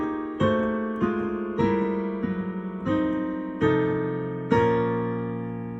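Piano plays a slow chordal section of a song, each sustained chord struck about once per second and left to ring, close and alone.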